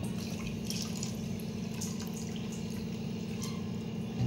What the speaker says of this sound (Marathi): त्याच वाटीने आपण 1 वाटी पाणी टाकून घ्यायचंय